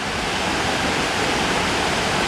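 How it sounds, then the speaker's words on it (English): A swollen creek with waterfalls roars below in a dense, unbroken rush of water, loud and steady with no voices. "Raging Creek is down there."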